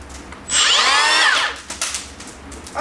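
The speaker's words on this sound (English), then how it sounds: "We got a nice planer." An electric wood planer spins up, whining loudly for about a second, then winds down, with light handling noise around it and no talk.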